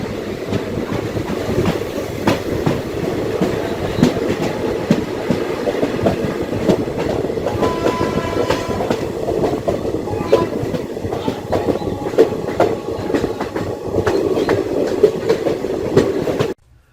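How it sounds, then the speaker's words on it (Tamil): The Bangalore–Murudeshwar Express, train number 16586, rolls past close and loud with a continuous rumble and rhythmic clickety-clack of wheels over rail joints, and faint squeals mixed in before the sound cuts off. "இது பெங்களூர்ல இருந்து முருதேஸ்வர் வரைக்கும் போற ட்ரெயின்ங்க."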